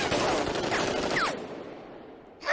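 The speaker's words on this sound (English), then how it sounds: "it's true what they say about machine guns, isn't it? You can't hit a thing with it." A rapid burst of machine gun fire rattles in a dense, sustained volley for just over a second. It cuts off abruptly into near silence, and a short noise follows at the end.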